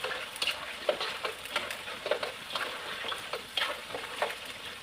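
Chicken frying in a pan and being stirred, with a steady oil sizzle and repeated scraping strokes of the spoon about every half second, close and fairly loud.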